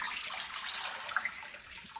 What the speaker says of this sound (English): Let me pour our water.